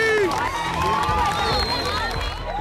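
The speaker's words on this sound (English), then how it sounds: "she's welcomed by a crowd of cheering friends and family" A crowd of friends and family cheering a young girl, Midsi, on her return home, with excited voices shouting and calling out together at close range for a few seconds.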